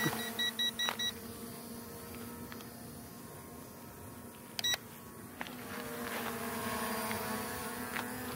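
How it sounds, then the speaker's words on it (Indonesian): Drone L9 obstacle-sensor alarm: quick bursts of high electronic beeps near the start and again midway, over the constant whining hum of the drone's motors and propellers, with no talk. "Oke ada bunyi, bunyi pipip dan dia langsung bergeser."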